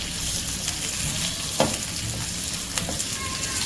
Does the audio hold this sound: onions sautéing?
yes